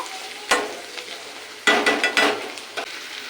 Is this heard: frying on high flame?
yes